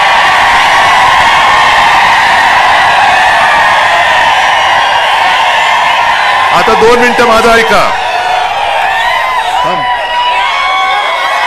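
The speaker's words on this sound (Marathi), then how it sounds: "नुसता जल्लोष नकोय" Large crowd at a political rally cheering and roaring continuously, loud and dense, with a man addressing them over a microphone on top of the noise.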